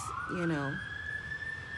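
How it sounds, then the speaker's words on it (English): A police siren wails outside at night, a steady rising tone at moderate distance with a brief warbling yelp partway through, over a low background rumble. "So you might hear a siren or two."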